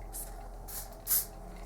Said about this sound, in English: So this is a flexible hold hairspray. Just a tiny bit will do